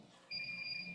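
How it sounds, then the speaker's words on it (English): A beeping alarm sounds from the next room in a meeting space, a steady electronic tone that starts abruptly and holds for the rest of the moment. "That sounds like the alarm."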